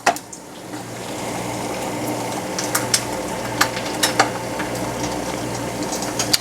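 An egg frying in hot oil in a pan, a steady close crackling sizzle with scattered sharp pops spitting throughout.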